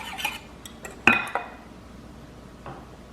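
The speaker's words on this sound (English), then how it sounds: "I have finished scraping my bowl" Spoon or spatula scraping pumpkin butter and spice sour cream waffle batter, pumpkin puree mixed into flour, from a mixing bowl: a few light clinks and scrapes against the bowl, close and fairly quiet, with no talking.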